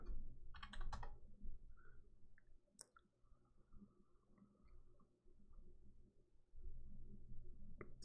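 Computer keyboard keys tapped in a quick burst of clicks near the start, with a few scattered taps afterward, close and fairly quiet over a low room hum.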